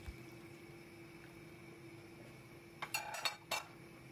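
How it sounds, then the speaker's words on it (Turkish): Cooked rice-stuffed mince dish drained and moved onto a serving plate, a quiet stretch of faint kitchen hum, then a short cluster of metallic clinks and scrapes of utensils against dishware. "Suyunu süzerek servis tabağına alalım."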